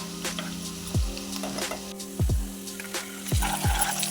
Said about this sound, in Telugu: ఉల్లిగడ్డ వేసి వేగనివ్వాలి బ్రౌన్ కలర్ అచ్చం రావాలి